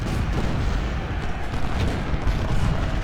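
Artillery fire in the Civil War strategy game Ultimate General: Civil War, Gettysburg battle, rumbling as a dense continuous roar of distant cannon booms without distinct pauses, fairly loud, no talk.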